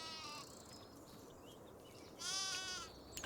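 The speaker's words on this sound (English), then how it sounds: "Look at all these sheep, and I didn't even ask for these sheep." Sheep bleating in the Farming Simulator 25 video game on a farm map, several wavering bleats over a steady ambient bed, with a louder, nearer bleat near the end.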